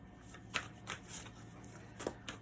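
Tarot cards shuffled by hand at close range, with soft papery riffles in short irregular bursts over a quiet room and no talking.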